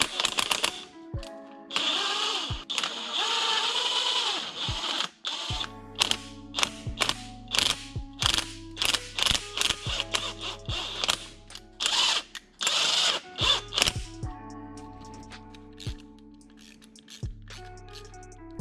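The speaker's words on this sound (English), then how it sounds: "I'm gonna run these two caliper bolts through a die as well, just to clean up these threads." Caliper bolts are run through a thread die by hand, making a series of short metallic clicks, ratcheting scrapes and squeaks in irregular bursts, close and fairly quiet, with no talking.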